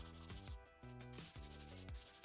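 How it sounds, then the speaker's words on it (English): Rhythmic back-and-forth rasping of sandpaper rubbed on wood by hand, several strokes in a steady pattern, close up with no voices. "Now it's time for the final sanding of the piece."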